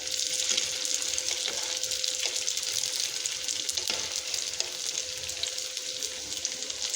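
Potato pancakes frying in a pan, a steady soft crackling sizzle throughout, with a few faint utensil taps; no voices.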